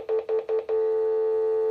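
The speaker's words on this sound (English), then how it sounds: "I'm going to press the speakerphone just to give you a sense of how loud this is." A 4G VoLTE fixed wireless landline phone on speakerphone sounds four short evenly spaced beeps, then a loud steady tone holding to the end, with no talk.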